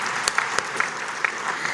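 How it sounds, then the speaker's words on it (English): Congress audience in Kigali claps in a steady wash, with a few distinct sharp claps standing out nearby over the continuous crowd applause. "Clap for us."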